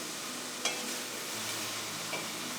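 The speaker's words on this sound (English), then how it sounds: "we're going to start sauteing them in our fat and letting that moisture start to evaporate" Mushrooms sauté in fat in a pan with a steady, close sizzle and a couple of light stirring scrapes.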